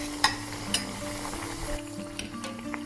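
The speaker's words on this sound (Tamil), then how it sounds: "எண்ணெய் கொதிச்சா பிறகு தப்பி வச்சிருக்கிற ரொட்டியை போடணும்" A sweet ragi roti made from finger millet fries in hot oil with a soft, continuous sizzle, broken by a few faint clicks and taps from the pan.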